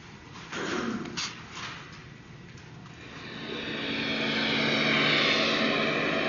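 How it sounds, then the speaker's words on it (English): An original 1909 Blériot XI monoplane passes with a propeller engine drone that swells from moderate to loud and steady, building over several seconds as it nears, with no talk. "original 1909 Blériot 11, which is almost identical to that plane that would have flown into Arch City and eventually did fly"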